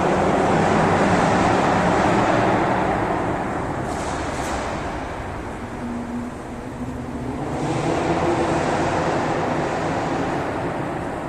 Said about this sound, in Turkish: Öyle bir geçti ki araba.